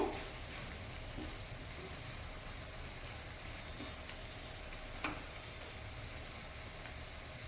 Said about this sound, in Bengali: নাড়িয়ে ভালো করে মিশিয়ে দেব।